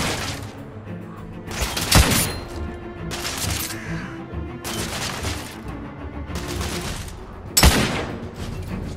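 Heavy gunfire in the video game The Order: 1886: repeated loud volleys of shots crackle in clusters, with two sharp, especially strong bursts, over a busy battle background.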